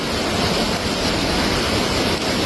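A swelling mountain stream in flood at Kuruthichal, Mannarkkad, pours over submerged rocks in a constant broadband roar, loud and near, with wind buffeting the microphone and no one speaking.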